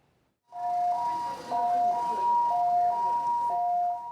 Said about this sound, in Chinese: 警示声音一响，救护车随出动救人。